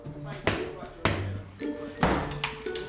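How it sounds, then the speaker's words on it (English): A lump hammer knocks out a doorway during a bungalow renovation, landing three loud, sharp blows about half a second apart with rattling debris after each. Talk is heard faintly in the background. "Frighteningly, designer Ben has got his normally smooth hands on a lump hammer."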